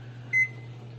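A kitchen timer gives a single short, bright electronic beep as it is set, heard close over a steady low appliance hum.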